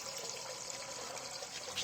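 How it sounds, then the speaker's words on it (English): A livewell pump circulating water inside an ice chest on a small fishing boat, giving a soft, steady trickling and splashing wash that stays faint and continuous with no talk. "it's a real live well pump. Circulates the water."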